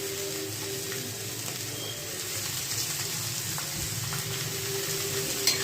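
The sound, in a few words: greens frying lightly in a pan with salt and turmeric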